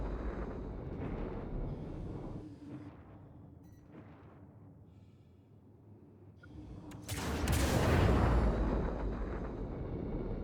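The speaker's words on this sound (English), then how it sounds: "Let's quickly missile our main target." Missiles launched from a Corsair ship at a Cutlass Black in the space game Star Citizen, a low rumbling engine hum giving way to a loud, broad whooshing roar of launch near the end, with no talk.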